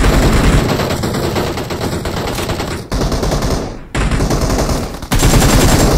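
Sustained rapid automatic gunfire in a video game, loud and dense, rattling almost continuously for several seconds with brief breaks and abrupt restarts.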